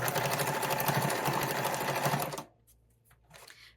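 Steady, close whirring of a sewing machine running through a seam on a fabric tool storage roll for about two and a half seconds, then it stops abruptly, leaving faint clicks and handling noise.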